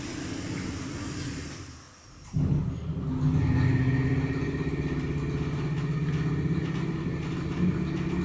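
An ASEA Graham traction elevator motor, modernized by KONE, drones steadily. After a brief dip it starts up again with a deeper hum, then keeps running at an even, moderate level.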